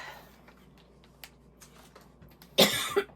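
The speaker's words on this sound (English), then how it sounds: "I'm still trying to get over this cough" A single sharp cough rings out near the end after a quiet stretch of faint rustling, followed by a smaller second catch of breath.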